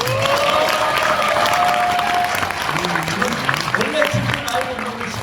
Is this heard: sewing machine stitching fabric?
no